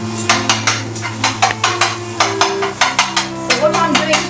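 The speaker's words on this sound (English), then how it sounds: "what I'm doing to this is I'm breaking it into small pieces as it's frying" A simple spiced omelette frying in a pan while being broken into small pieces, with sharp repeated scraping and tapping of a utensil against the pan over a low sizzle, loud and close.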